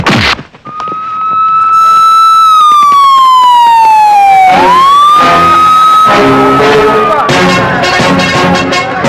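A police siren wails loudly in a Telugu action film scene set around a wedding-hall bomb threat, its pitch sweeping slowly down and back up before other dense film sounds and voices crowd in.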